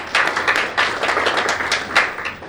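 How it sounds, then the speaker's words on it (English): An audience at a medical conference applauds, with a close burst of dense hand clapping and uneven sharp claps that carries on steadily before easing slightly at the end. "Big round of applause to Continental Hospitals and their teams."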